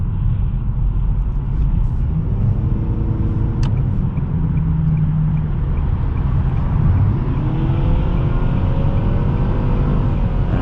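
A 2020 Nissan Sentra SR engine hums and climbs in pitch as the car accelerates on a night drive, steady loud cabin drone with road rumble beneath and no talk.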